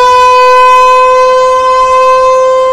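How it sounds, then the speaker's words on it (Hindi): A loud civil defense air raid siren wails in a steady, sustained tone, close and alone, during a mock drill in India. "जंगी सायरन भारत में बजेंगे"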